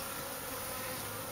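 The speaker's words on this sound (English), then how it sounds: "These are some bees that I discovered" Honeybees buzz continuously in a backyard garden, a steady close droning hum with no other sounds.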